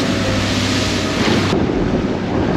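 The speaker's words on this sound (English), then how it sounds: "wind's actually howling that way at about 20 knots" Strong wind of about 20 knots howls over choppy water off Fraser Island, heard from a small 5 m boat as a steady, loud broadband roar that fills the whole clip.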